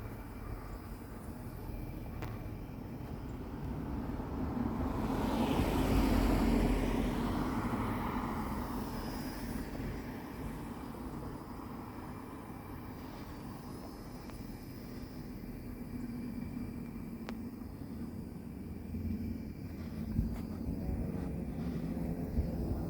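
Old-style warbird propeller planes flying overhead in an outdoor yard, a distant droning engine that swells to a peak and slowly fades, steady and fairly faint with no talk.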